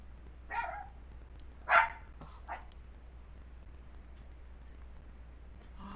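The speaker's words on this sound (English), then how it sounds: "someone's dog's barking and it makes my dogs want to bark too" A few distant dog barks come through a quiet room, three short separate yips spread over several seconds, faint against a steady low hum with no talking.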